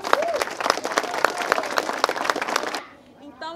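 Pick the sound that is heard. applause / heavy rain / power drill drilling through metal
applause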